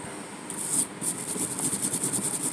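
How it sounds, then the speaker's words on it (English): Scrubbing around the drag mechanism of a Zebco 66 fishing reel coated in paint overspray: a close, steady brushing rasp in quick repeated strokes, with a brief pause near the start, no voices. "Kind of scrub in around that drag area, or drag mechanism a little bit."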